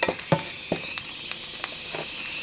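Dried red chillies frying in hot oil in a pan, a continuous close sizzle with a few sharp pops and scraping stir clicks throughout.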